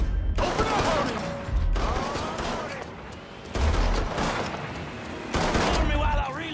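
Gunfire in the crime video game Mafia 3 comes in repeated loud bursts of rapid shots, several volleys separated by short lulls, with voices in the background.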